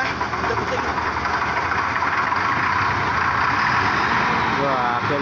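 A Yamaha Scorpion motorcycle engine, jump-started with jumper cables in a mechanic's garage after sitting unused, runs loudly and continuously at a rough idle close by, filling the whole stretch.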